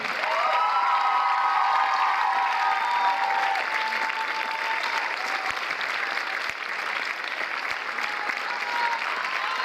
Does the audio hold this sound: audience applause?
yes